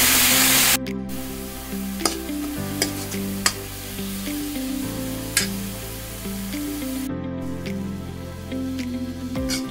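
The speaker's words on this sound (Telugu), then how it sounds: "పాలకూర వేసుకొని కలుపుకుందాం." Spinach and onion frying in a pan for a palak chicken curry, with a steady close sizzle and periodic sharp scrapes and knocks of a spoon stirring, alongside a low humming tone throughout.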